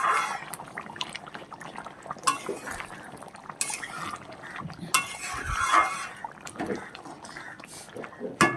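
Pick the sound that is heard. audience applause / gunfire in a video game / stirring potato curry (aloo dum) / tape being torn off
stirring potato curry (aloo dum)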